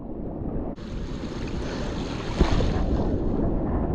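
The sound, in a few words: large ocean waves breaking near a fishing boat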